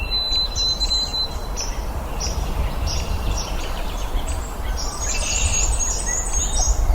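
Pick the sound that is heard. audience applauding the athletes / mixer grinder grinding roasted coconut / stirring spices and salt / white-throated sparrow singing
white-throated sparrow singing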